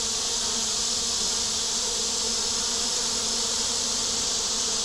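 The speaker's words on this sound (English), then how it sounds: "with all those bees outside, with all these bees inside, it's hot." Dense, steady buzzing of many bees around a hive on a hot day, constant and close, with no pauses.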